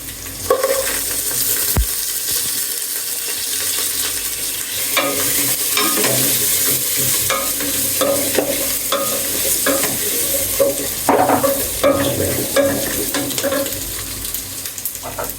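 Cumin and spices sizzle steadily in hot oil for khichuri, with a spatula scraping and stirring through the pan in irregular strokes. The sizzle is close and fairly loud, with no voices.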